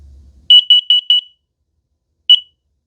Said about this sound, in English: Now it's going to be immediately followed by carbon monoxide test.